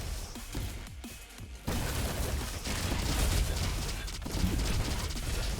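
Dense gunfire in the video game Roboquest, a rapid stream of mechanical shots and pops with a brief lull before the firing intensifies, steady and close.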